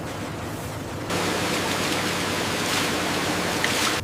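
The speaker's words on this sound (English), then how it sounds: "the rushing sound of high-pressure jets stripping away the last remnants of the farm." High-pressure water jets rush over whole potatoes in a chip factory's washing line, a dense, steady hiss of spraying water that jumps louder after the first second and stays constant, with no voices.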